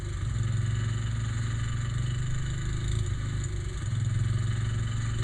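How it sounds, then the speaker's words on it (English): Small engine of a 1972 Sears Custom lawn tractor idling steadily, a low even rumble with light mechanical clatter that holds at a constant level nearby throughout, no voices. "That engine on that 72 Custom sounds pretty good"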